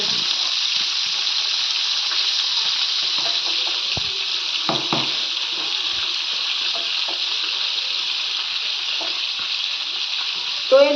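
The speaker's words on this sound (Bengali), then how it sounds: "এদিকে হলো চিকেন ভাজতেছি আবার খিচুড়িও রান্না করতেছি" Chicken fries in a pan beside a pot of khichuri, giving a steady, bright oil sizzle throughout with a few light stirring and utensil clicks.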